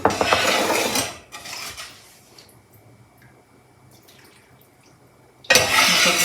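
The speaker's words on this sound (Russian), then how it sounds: "Теперь сюда заливаем наш бульон." Homemade broth for aspic pours into a dish with a burst of splashing and clinking, fading to quiet drips and small metallic taps before a second loud pour rushes in at the end.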